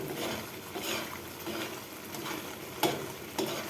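Potato curry masala browning in a pan over medium heat, a steady close sizzle with scraping stirs and a couple of sharper clinks near the end, no talking.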